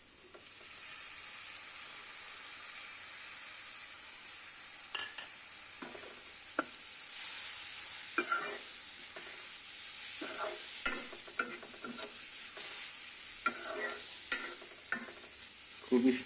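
Onion and prawns sizzle steadily in a frying pan, a constant close hiss broken by scraping and clinking as a utensil stirs them.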